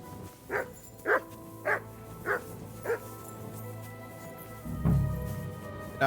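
Mutt, a dog in Kingdom Come Deliverance 2, barks five times at an even pace, each bark sharp and fairly close, followed by a low rumbling sound.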